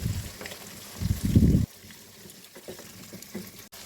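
Goat curry broth bubbles in a pot on the stove, a close, low, burbling boil that swells briefly and then settles into softer, intermittent bubbling and patter.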